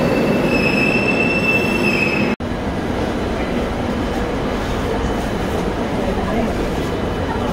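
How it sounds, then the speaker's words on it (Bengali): Kolkata metro train arriving at Dakshineswar station, a loud continuous rumble with high wheel squeal early on that cuts off abruptly, then steady rolling roar. "দেখুন চলে এসছে আমাদের মেট্রো।"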